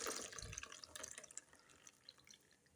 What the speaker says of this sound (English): So after blending it, I pour it in my sieving clothes to extract the milk.